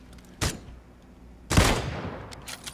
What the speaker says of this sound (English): Shots at him.